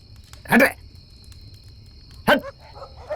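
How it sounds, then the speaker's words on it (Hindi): Dogs barking at night in an outdoor setting, two sharp bursts spaced apart over a low steady hum, moderately close, with a faint chirp between them. "ये कुत्ते भी भौंक रहे हैं।"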